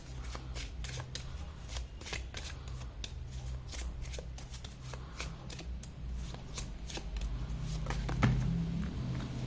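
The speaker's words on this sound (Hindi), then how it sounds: "what we can do is we can pull a card" Tarot cards shuffled steadily and close by, a continuous soft riffling and flicking patter lasting about nine seconds with no talk.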